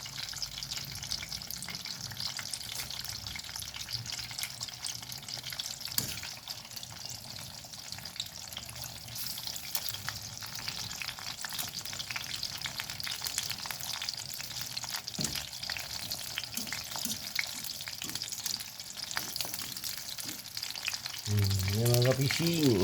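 Eggplant frying in hot oil, served alongside anchovy fritters, a continuous close sizzle and crackle with occasional spatula clinks and one brief louder scrape near the end, with no voices.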